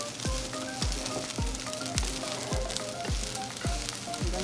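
Shrimp fried rice with soy sauce sizzles steadily in a pan while being stir-fried, with a regular metallic tapping of the utensil roughly every half second over the constant hiss.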